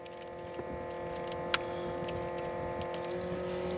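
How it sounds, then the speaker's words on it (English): An electric fuel pump runs with a steady, even hum on a 2001 Cummins diesel engine, continuous and close, with a couple of faint ticks. "There's the fuel pump on"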